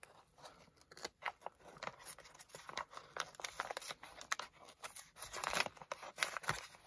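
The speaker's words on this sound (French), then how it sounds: "Donc je vais prendre les ciseaux." Scissors slicing open a paper envelope holding a greeting card, with a run of crisp snipping and crinkling paper sounds, close and fairly loud, picking up toward the end.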